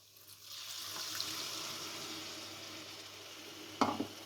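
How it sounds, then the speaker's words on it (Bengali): Spice paste of coriander powder, chili powder and salt with a little water, sautéed in a pan for a bele fish bhuna, gives a steady close sizzling hiss with soft stirring and a brief clatter near the end. "দিয়ে মশলাটাকে আমি ভালোভাবে কষিয়ে নেব।"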